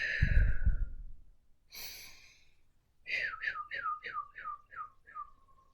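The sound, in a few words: deep breathing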